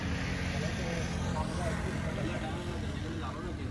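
A generator engine runs steadily at a rural Punjabi jaggery-making site, a loud, continuous low mechanical drone throughout with a faint high whine, voices present in the background.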